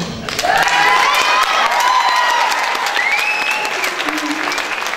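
Loud, close audience applause at a beauty pageant, dense clapping with some cheering and shouted voices mixed in, sustained for the whole stretch.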